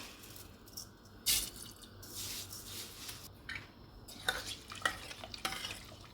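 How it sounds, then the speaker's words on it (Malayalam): Rice for ghee rice is stirred in a pot of water with soft, uneven scraping and sloshing strokes, some louder than others, over quiet background noise. "ഇളക്കുക."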